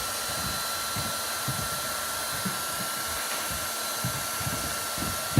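Steady whooshing hiss of a hot air heat welder fitted with a 50mm nozzle during PVC repair, running continuously up close with a faint low rumble and no speech.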